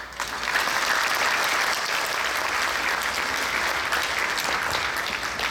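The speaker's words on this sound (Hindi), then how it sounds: "आइए हम सब मिलकर गुरु जी का स्वागत तालियों से करें।" A temple gathering claps together to welcome a guru, a moderate, even round of applause that swells briefly and holds steady for several seconds before tapering slightly, with no voices over it.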